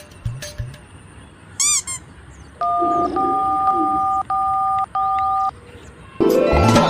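A short burst of tones, then a steady series of telephone keypad dialing beeps in four evenly spaced pulses, followed by a brief noisy rush.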